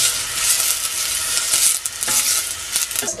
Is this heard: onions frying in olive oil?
yes